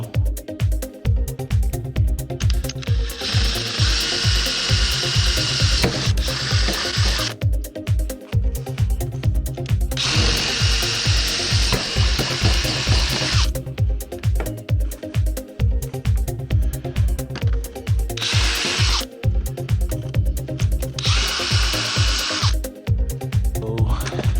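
A power drill boring a 3/8 inch hole in plastic PVC track for a utility trailer kayak rack, its motor whining in repeated long bursts over a steady rhythmic background hum.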